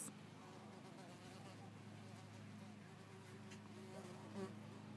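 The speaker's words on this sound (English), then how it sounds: "Okay, the bees are flying all over." Bees buzz around flowering comfrey plants, a steady close hum with droning tones rising and falling as they fly past, faint and continuous with no one speaking.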